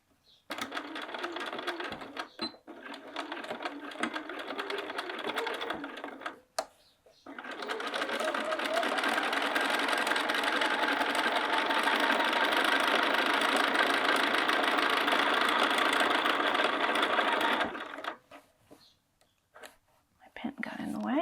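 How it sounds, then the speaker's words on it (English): Domestic sewing machine stitching across a bag pocket, with a brief burst of running near 0–6 seconds, a pause, then a long steady close run until about 17.5 seconds before stopping. "I'm going to back tack a tiny bit right here and then just sew across."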